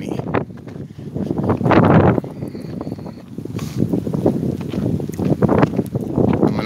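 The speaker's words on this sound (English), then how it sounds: "this damn wind is not letting me" Heavy outdoor wind buffets the microphone in loud, rumbling gusts that swell and fade, with no other clear sound beneath it.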